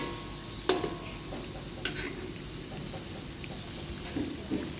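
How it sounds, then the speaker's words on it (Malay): Samosas deep-fry in hot oil, a soft steady bubbling sizzle with occasional sharp clinks and scrapes of turning, heard fairly quietly and without talk. "Kita balik-balik lah kita goreng tu dah sampai dia garing molek"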